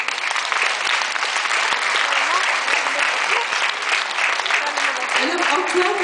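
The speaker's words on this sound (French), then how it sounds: "On peut l'applaudir aussi." Loud, sustained audience applause for the lighting technician at an awards ceremony, dense continuous clapping filling the hall with a few voices faintly underneath.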